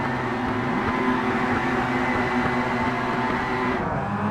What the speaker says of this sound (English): So the revs are building here at Indy for round 2 of the day.